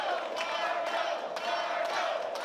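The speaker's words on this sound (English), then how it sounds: "The crowd certainly showing their appreciation for Marco here" A wrestling arena crowd cheers and chants steadily, a broad continuous roar with rhythmic swells and a few sharp shouts, loud and close throughout.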